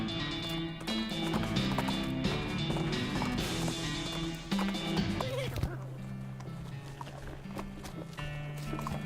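Cart horse hooves clip-clop in the Western comedy game West of Loathing, a steady trotting rhythm under game music with talk over parts of it.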